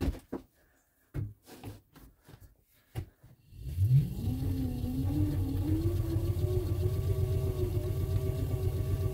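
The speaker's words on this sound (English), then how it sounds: "I'm going to start pedaling." A pedal-powered generator charging a battery, starting with several clanks and thumps, then spinning up into a steady rising hum and whir that holds as continuous pedaling.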